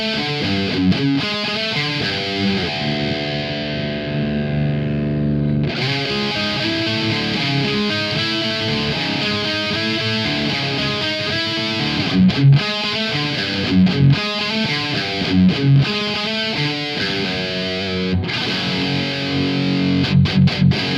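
Heavily distorted electric guitar riffs through a Marshall 8100 amp with the reverb turned off, playing dense palm-muted chugs and chords, loud and dry without pause.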